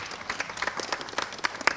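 Audience applauding a quiz team at the SEBI & NISM National Financial Literacy Quiz, a brief burst of close, brisk clapping from a crowd.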